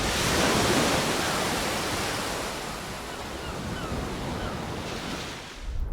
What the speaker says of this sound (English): Now this is how ocean waves sound here on Earth.